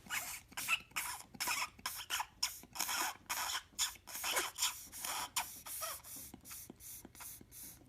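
A clogged tobacco pipe stem being cleared in a run of short, airy, breathy bursts, each lasting about half a second with brief gaps, close and fairly quiet, with no talking.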